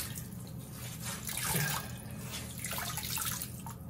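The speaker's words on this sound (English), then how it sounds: "I try and wring it out as much as possible so that it'll dry faster" Hand-washed wet laundry wrung out over a sink in a hotel room, giving a steady close splashing and trickling of water that swells in the middle and again near the end, with no talking.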